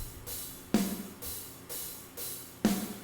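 MIDI drum playback in a steady groove, sharp snare-like hits alternating with softer kick thumps, sounding quietly and on its own with no voices.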